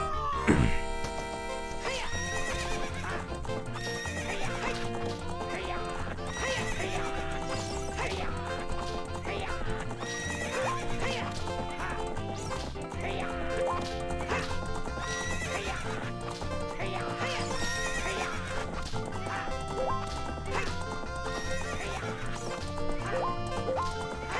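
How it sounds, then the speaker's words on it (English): Hooves clip-clop at a steady gallop while a horse neighs now and then, all under continuous game music, from The Legend of Zelda: Ocarina of Time. "One lap around the corral with that horse."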